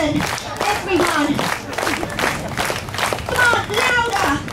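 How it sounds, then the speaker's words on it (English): A crowd on a street in Sydney, Australia claps together in a slow, steady rhythm, with about a dozen loud, even beats over scattered shouts and chatter. "I need a slow, rhythmic hand clap from everybody"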